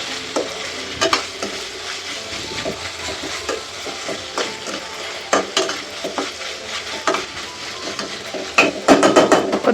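A moong dal and fenugreek leaf curry fries in a pan, with a low sizzle under repeated sharp clacks and scrapes of a spoon stirring against the metal, growing busier toward the end; no voices.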